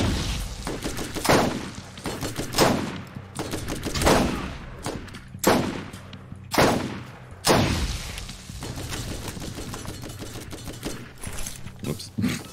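Sniper rifle shots in Borderlands ring out at spaced intervals, each a sharp loud crack with a decaying tail, mixed with other game gunfire and background effects.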